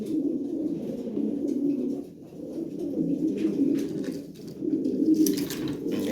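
Fancy Lahori pigeons at a sale coo steadily and fairly close, their low rolling calls swelling and fading in three long bursts with no talk over them.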